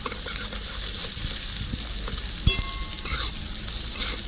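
Chopped garlic and ginger fry in a pan for mixed chowmein as a spatula stirs them, producing a loud continuous sizzle with scraping strokes and one sharp metallic clink midway.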